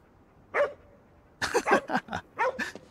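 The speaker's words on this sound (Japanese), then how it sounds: "お金くれたドッグフードを与えるとここほれワンワンしてくれるのねありがと" A dog in a video game set in Shibuya barks after being fed dog food: one short bark, then a quick series of four or five close, loud yips and barks, with no talk.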